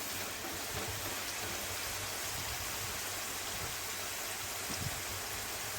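Chips fry in a pan at a village birthday gathering, giving off a steady, dense sizzle and crackle like rainfall that runs without a break the whole time, with no talking.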